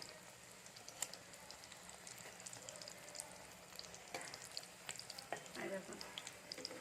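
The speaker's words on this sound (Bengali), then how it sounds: "আমি গ্যাসটা কম গ্যাসেতে ভাজবো তাহলে ভালো করে ভাজা হবে" Egg-based breakfast snack frying gently in a pan over a low gas flame, a soft, faint crackle with scattered small pops and light stirring clicks.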